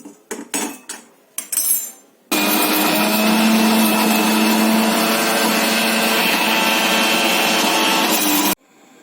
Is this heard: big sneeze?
no